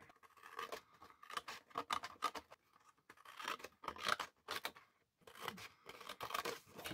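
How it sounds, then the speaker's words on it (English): Scissors cut cardstock along score lines for a standing Christmas cracker gift box, making crisp, close snips in irregular bursts separated by short pauses, with no voices. "Cut up this score line here, cut this piece off"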